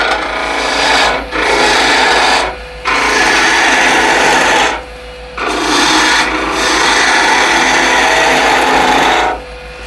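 A skew chisel shaves wood on a spinning lathe in steady, loud rasping passes, each broken by a brief pause, four or five cuts in all with no talk.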